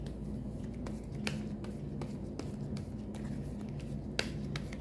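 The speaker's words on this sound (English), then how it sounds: "Let me quickly shuffle my tarot deck, and then we can get started with your reading." Tarot card deck being shuffled by hand, with soft papery riffles and sharp card snaps at irregular intervals over a low steady background hum, no talking.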